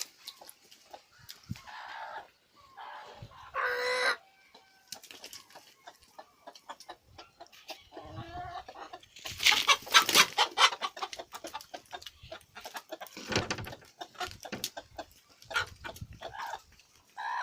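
Chickens and a rooster cluck and squawk close by at feeding time as wheat and snails are scattered for them, with bursts of busy, overlapping calls rising and falling throughout and a louder flurry near the middle.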